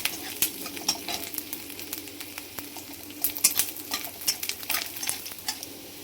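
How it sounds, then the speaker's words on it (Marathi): Desi garlic roasting in a pan, with steady sizzling and frequent spoon scrapes and clinks against the metal, close and continuous, while birds chirp faintly in the background. "हा देशी लसूण आहे बघा, गावाकडून आणलाय। आपण चांगला भाजून घ्यायचा।"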